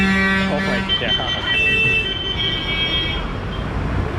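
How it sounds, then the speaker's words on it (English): Busy street traffic in Mangalore, India, with buses passing close by and horns tooting in short bursts over a constant rumble of engines and road noise. "A bus stops to pick up 2 people"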